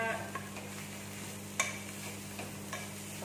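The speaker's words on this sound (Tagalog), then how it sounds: "Haluin muna." Spoon stirring garlic powder into pancit palabok sauce, with soft scraping and faint ticks over a low, steady kitchen hum.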